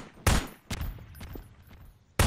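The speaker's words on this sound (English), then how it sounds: "I see someone shooting at me" Gunfire in the Garry's Mod Prop Hunt video game: loud, close shots with sharp attacks, spaced apart and decaying briefly between them, with a final shot at the end.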